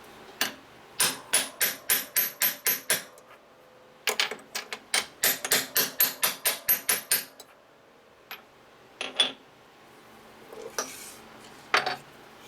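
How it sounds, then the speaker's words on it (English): A hammer beats a 1947-54 OEM tombstone tail light bezel flatter, giving quick runs of sharp metallic taps in close bursts, followed by scattered, softer knocks. "So that's beating the side in there a little flatter."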